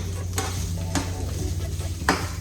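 Sausages sizzle in a frying pan and are stirred, with a steady hiss under several sharp scraping strokes of a utensil against the pan, close and fairly loud.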